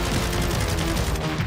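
Dense gunfire from the Warzone video game, a sustained loud fusillade of rapid overlapping shots that runs without a break across the whole short stretch, with no voices.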